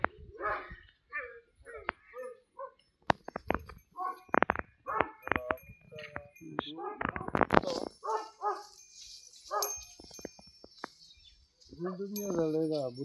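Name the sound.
dog barking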